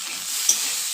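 Green peas fry with spices in a kadai, giving a brief, steady hissing sizzle up close with a single soft spatula tap in the middle.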